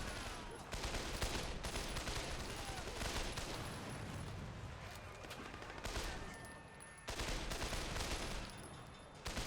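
Assault rifle fire in the video game Sleeping Dogs, rapid bursts of gunshots running nearly nonstop at moderate loudness with brief gaps between volleys amid game noise.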